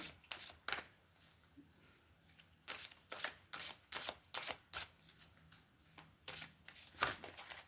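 Animal-themed cards are shuffled in a quiet room, a run of crisp riffling bursts and soft slaps repeating in quick irregular rhythm, close and fairly faint.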